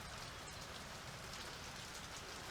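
Steady rain falls outdoors in Middle Tennessee, a dense, continuous hiss of drops striking surfaces close by, holding even in loudness throughout with no voices.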